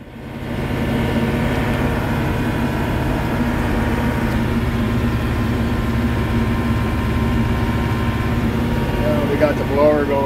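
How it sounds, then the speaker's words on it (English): A snow blower clears a driveway after a storm on New Brunswick's North Shore, its engine droning loud and steady throughout as it works. "Got the blower going now, trying to punch a hole in the front here, get the driveway opened up"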